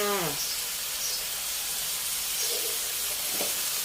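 Catfish stir-fries with red curry paste in a hot pan, giving a steady close hiss and sizzle throughout, with a brief voice at the start and a few light stirring clinks.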